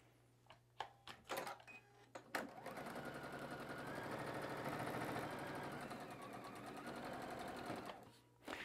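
A sewing machine stitches batik fabric squares onto the border edges of a quilt block, running in one steady, close whir for several seconds after a few short taps and bursts.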